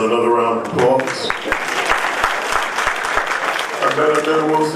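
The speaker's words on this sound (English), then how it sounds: "Let's give Annetta Wilson another round of applause." An audience applauds at a women's event, a dense, loud run of clapping that swells after a voice and fades back into speech near the end.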